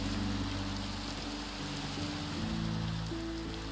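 Rain pours steadily in the Minecraft video game, a dense continuous hiss of drops with faint low tonal tones running underneath.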